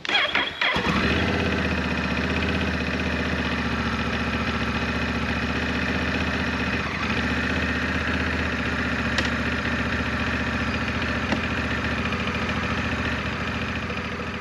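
A Honda Rebel 1100 motorcycle engine cranks and fires up at close range, then settles into a steady, even idle that continues for the rest of the clip.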